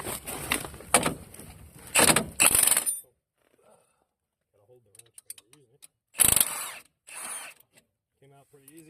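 A ratchet with a 17 mm socket works loose a bolt on a 1999 Arctic Cat 300 4x4 ATV. Several loud bursts of rapid ratcheting clicks come up close, separated by quiet pauses with small handling noises.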